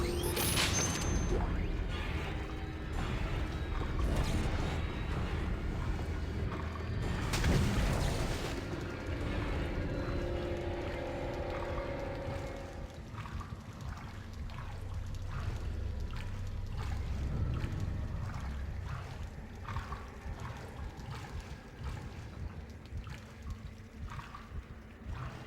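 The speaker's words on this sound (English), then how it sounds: "I can hear something ahead. Sounds like a waterfall." A steady rushing roar of water falls in a sewer from the video game Dead Space: Extraction, a broad continuous wash that holds loud and even throughout with a few heavier surges, no talk over it.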